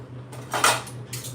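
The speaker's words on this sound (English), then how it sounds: "I whisk these ingredients together" A whisk clatters quickly against the side of a bowl as ingredients are mixed, a short bright burst of metal-on-bowl scraping in a quiet kitchen.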